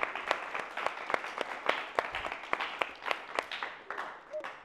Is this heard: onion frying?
no